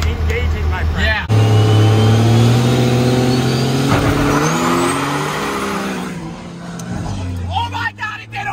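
Diesel truck with around 800 to 1100 horsepower launching in race mode, a loud engine roar with a drivetrain grind as power engages, tires squealing and pitch climbing, with people talking and reacting over it.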